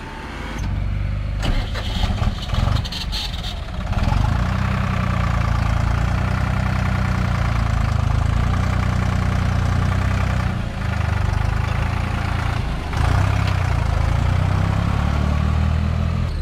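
A Deutz-Fahr F 55 tractor's diesel engine cranks and catches, then settles into a steady, loud, low rumbling idle that continues throughout.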